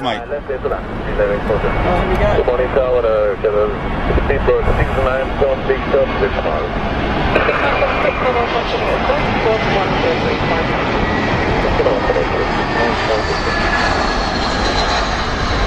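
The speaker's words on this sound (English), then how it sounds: "Here's one of Qatar 319s" A Qatar Airways Airbus A319 jet roars steadily for the whole stretch, loud and close, with someone talking over the engine noise throughout.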